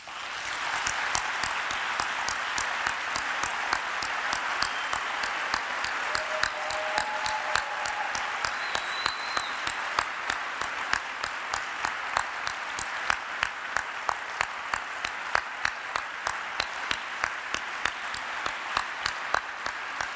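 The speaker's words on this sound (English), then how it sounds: "give her a big, big round of applause as she comes in" An audience applauds steadily throughout, with dense, sustained clapping at a constant level and no pauses.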